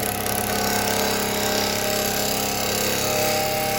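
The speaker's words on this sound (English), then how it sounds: "See, now the carbide tools work a lot better." Carbide tools cut a yew bowl spinning near 2,000 RPM on a wood lathe, making a loud, continuous scraping whir with steady motor hum close by and no talking.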